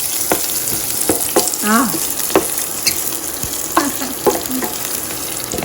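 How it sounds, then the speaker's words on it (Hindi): Curry leaves fry in a hot pan, a steady sizzle with occasional stirring scrapes and pops, close and fairly loud, with a brief spoken word. "थोड़ा सा फ्राई करेंगे ताकि इसकी स्मेल आ जाए थोड़ी सी अच्छी सी।"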